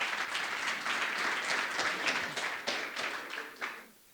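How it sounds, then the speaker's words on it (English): Applause from a conference audience at a business event greets speaker Thomas van Vooren: many hands clap in a dense, steady patter with a few sharper individual claps, then it thins and fades out near the end. "give a big applause for Thomas van Vooren"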